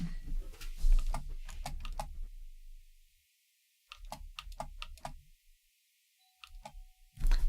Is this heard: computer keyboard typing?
yes